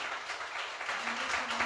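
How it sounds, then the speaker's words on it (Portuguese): Congregation applause at a Brazilian church service, a dense steady wash of clapping across the room, with a faint voice or tone coming in near the end. "você pode aplaudir a Jesus"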